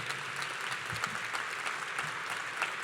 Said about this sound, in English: Let's give them a big round of applause if we can.